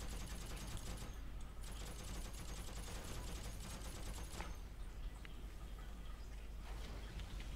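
Sustained gunfire in a World War II combat video game battle, with dense rapid shots and bursts rolling continuously under a steady din throughout, with no clear pauses.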